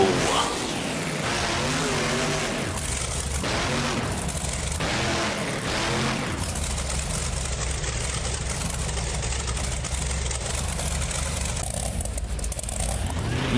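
The Dragon Nitro monster truck at a BeamNG Drive arena racing event in Minneapolis revs in several short, loud bursts, then settles into a long sustained engine roar.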